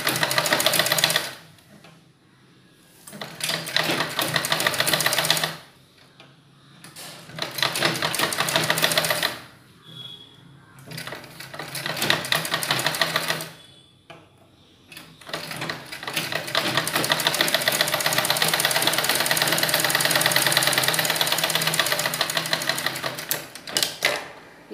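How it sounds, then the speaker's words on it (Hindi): A sewing machine stitches the neck strip of a suit, running in loud rapid bursts separated by short pauses, ending with a long continuous run. "इसलिए इसको पहले सिल लेना है आपको।"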